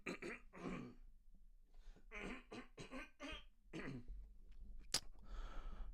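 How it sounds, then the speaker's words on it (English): A man clears his throat several times in a choppy, rhythmic series of raspy grunts and hacks, close and fairly quiet, ending with a sharp click and a breathy rasp. "Clear my throat in the tune of Super Mario Brothers NES."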